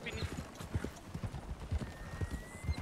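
Horse hooves clip-clopping in a ranch role-play video game, a steady rhythmic series of soft thuds about two per second as horses are ridden, fairly faint, with voices murmuring underneath.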